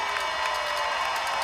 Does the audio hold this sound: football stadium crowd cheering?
yes